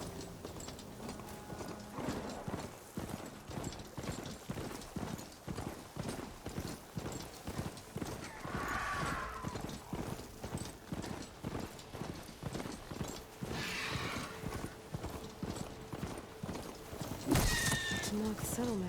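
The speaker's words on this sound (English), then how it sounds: "I have a horse." Rhythmic clip-clop of hooves galloping steadily in Horizon Forbidden West, with occasional brief whinny-like sounds and a sharp burst near the end; no talking.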